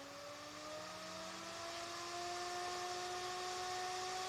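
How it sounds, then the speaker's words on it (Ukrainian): A small cooling fan powered at 13 volts from a bench supply hums steadily with a whining motor tone and airy rush, close and constant, rising slightly in level partway through. "Вентилятор запрацював."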